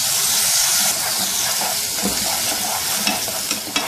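Golden semolina being stirred in a pan with chopped almonds, pistachios and raisins, a loud close sizzling and scraping with a few sharper clicks of the spoon near the end.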